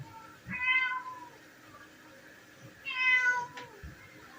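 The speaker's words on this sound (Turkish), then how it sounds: "böyle niye mi yavruyor bu kedi?" A cat meows twice, drawn-out and plaintive, close by, with a quiet pause between the calls.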